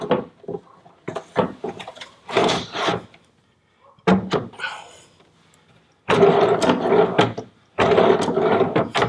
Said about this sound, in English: now it's just a matter of installing the drawer